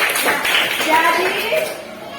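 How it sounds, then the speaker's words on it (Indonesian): Schoolchildren in a classroom clap together briefly, a short burst of many small hands under a teacher's voice and children's chatter. "Tepuk tangan untuk kita semua."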